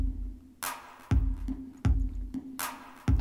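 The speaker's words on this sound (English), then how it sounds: "first thing, we've brought in a drum loop." Basic, atmospheric drum loop from Cubase production grooves: punchy kicks and bright hi-hat or snare hits in a steady repeating pattern, clear and alone.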